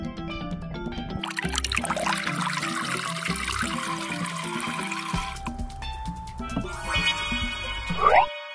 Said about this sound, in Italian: Anche con questo si può versare l'acqua in piscina